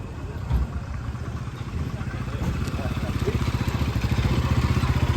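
A motorcycle engine chugs with a rapid, steady pulse that grows gradually louder as it approaches along a village road, with a voice speaking over it.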